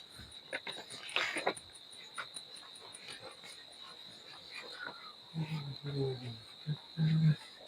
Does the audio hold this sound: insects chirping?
yes